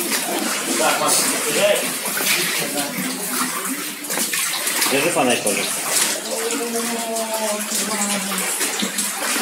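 Water flowing and splashing steadily throughout inside Abrskil Cave near Otap, Abkhazia, with voices talking over it in the reverberant cave.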